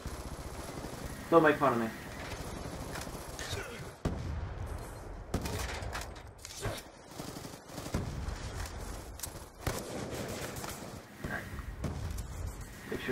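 Gunfire in a robot combat video game, scattered bursts and shots under nearly continuous excited talk from players, fairly faint overall.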